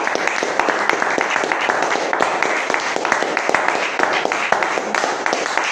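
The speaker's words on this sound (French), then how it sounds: "Applaudissons pour le Seigneur Jésus." Worshippers in a church service clap together for the Lord Jesus, producing a brisk, continuous volley of sharp hand claps, close and loud, with a faint murmur of voices beneath.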